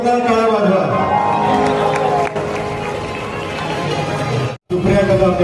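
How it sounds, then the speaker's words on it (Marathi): An audience greets the third-place winner of a Khel Ranglay Paithanicha event with a sustained wash of clapping and cheering. It stays dense and loud for about four and a half seconds, breaks off briefly, then resumes, with voices calling through the crowd. "सुप्रिया कदम, जोरदार टाळ्या वाजवा."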